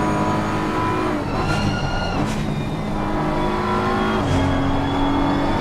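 A race car engine with its throttle stuck open in a racing video game at the Zandvoort circuit drones at a steady, loud, constant high pitch, with slight shifts in tone and no break.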